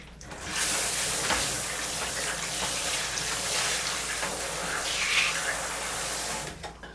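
A bleached photographic film print is washed in running water, a steady close hiss and splash of flowing water lasting several seconds before stopping.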